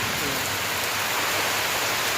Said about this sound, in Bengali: বৃষ্টিগুলো পুরো ছিটকে ছিটকে পড়ছে,